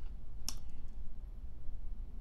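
A computer mouse clicks twice at close range, one sharp click early and another near the end, over a steady low background hum.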